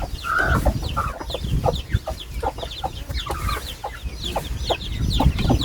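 Several chickens cluck repeatedly in short, choppy bursts near the listener, a lively farmyard chorus of overlapping fowl calls with an occasional rooster-like note.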